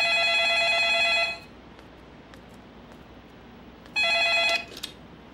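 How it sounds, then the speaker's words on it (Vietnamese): A telephone bell rings in two loud electronic bursts, the first lasting about a second and the second starting after a gap of a few seconds, with a faint background hiss and no talk, in an office answering calls for a rice mill. "Để em nghe điện thoại cái."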